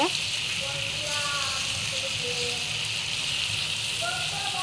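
Chilli spices fry in hot oil as a steady, close hiss that runs the whole time, with a few faint tonal chirps over it.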